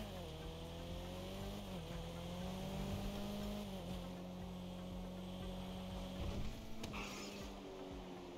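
A car engine droning steadily in a GTA video game, a faint sustained hum whose pitch shifts slightly a few times, with a brief sharper noise near the end.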